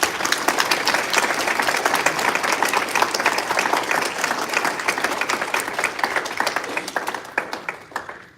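A seated audience at a school board meeting applauds the competition team members, dense sustained clapping from many hands that holds steady and then thins out and fades near the end, with no talk over it.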